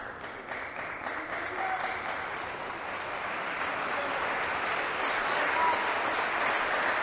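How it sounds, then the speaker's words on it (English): A large crowd applauds steadily at a table tennis match, the clapping holding at an even level throughout with no pauses. "The crowd is behind Morgan, make no mistake about that."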